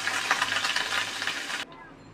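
Onion paste frying in a pan and being stirred, a dense bright sizzle with scraping that runs steadily and then cuts off abruptly near the end.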